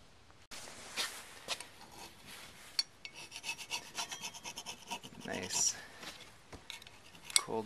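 Paint and rust are scraped and rubbed off the inside of the engine surface of a 1966 Ford F250 at the water pump mounting, a close, continuous gritty rasping with uneven strokes and a few sharp clicks.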